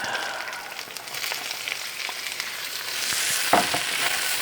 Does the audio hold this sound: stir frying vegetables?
yes